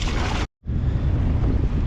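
Strong wind buffets a fishing boat's microphone in a loud, rough roar, cut by a brief silent gap before the gusting noise resumes and holds steady.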